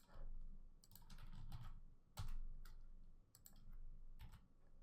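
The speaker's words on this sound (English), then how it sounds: "I'm just hitting P as in Paul on my keyboard" Keys tapped on a computer keyboard during font design work: scattered sharp clicks in small bursts over a low background hum, quiet and close, with no speech.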